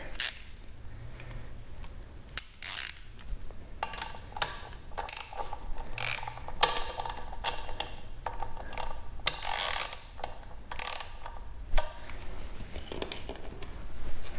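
Wrench being worked to tighten the front sprocket nut on a CSC SG250 motorcycle fitted with a 16-tooth sprocket: a run of close metallic ratcheting clicks and clanks in quick irregular bursts, with no talk.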